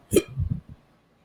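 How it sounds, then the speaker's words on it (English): A single loud, close hiccup, a sharp voiced gulp followed by a short trailing catch, then quiet. "oh, I got the hiccups"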